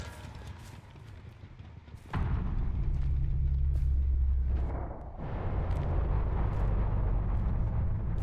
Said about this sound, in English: Huge explosion.